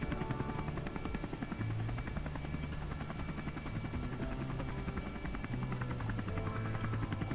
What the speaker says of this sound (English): Wait till the blades get up to RPM.